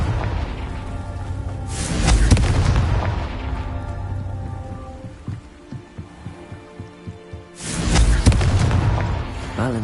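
A Confringo fire spell from the game Hogwarts Legacy goes off with loud, deep booming blasts, one early and another late, separated by a stretch of quieter rumbling and a run of soft rhythmic thuds.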